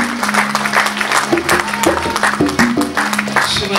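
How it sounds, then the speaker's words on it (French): An evangelical church congregation claps and cheers together, a dense burst of applause mixed with raised voices and shouts. "Acclamons Jésus."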